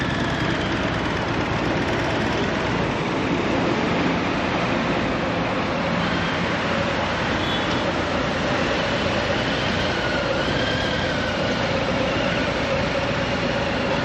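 A Harley-Davidson motorcycle engine drones with a steady rumble at constant level during U-turn practice, with no breaks or talking.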